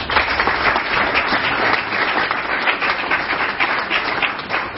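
Sustained applause from a large audience at a Rotary Club collar handover ceremony, dense and even clapping that continues at full strength from start to finish.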